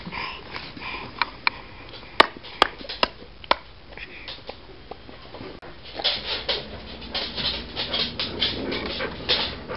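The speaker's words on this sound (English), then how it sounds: "We're feeding the dogs." Dogs being fed at home: sharp clicks and clatter of food land in bowls, then steadier eating and sniffing noises up close, with no clear talk.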